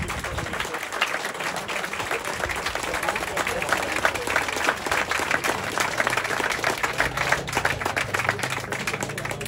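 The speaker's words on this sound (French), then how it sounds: "je vais vous demander donc de les applaudir très très fort pour l'ensemble des efforts qu'ils font" Sustained applause from a crowd at a village patronal festival in Saint-Julien-du-Verdon, steady dense clapping that fills the whole stretch, with some voices mixed in beneath it.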